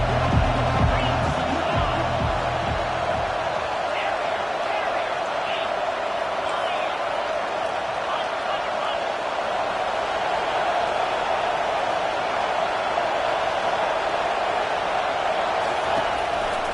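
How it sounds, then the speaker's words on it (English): A college football stadium crowd roars steadily during a third-down defensive stand, a dense, sustained wall of cheering that holds loud and even throughout. "Decibels rising as the crowd gets behind this defense on third down"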